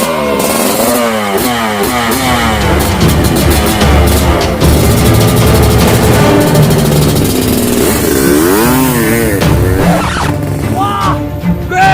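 A motorcycle engine revs hard and repeatedly, its pitch climbing and falling in loud, sustained bursts with clattering mechanical noise, while voices talk over it.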